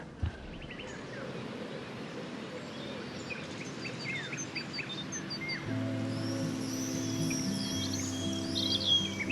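Birds chirp around Samuel in the video game Life Is Strange, with faint, scattered tweets over a soft, rain-like ambient bed, and brighter calls rising near the end.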